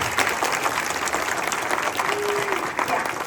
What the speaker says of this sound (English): can we give Janet a big round of applause?